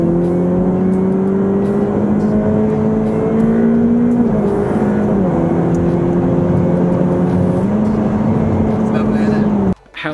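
A Ferrari F8 Tributo's 3.9-litre twin-turbo V8 drones steadily from inside the cabin, pulling up through the gears with brief dips at each shift, loud and continuous until it cuts off abruptly at the end.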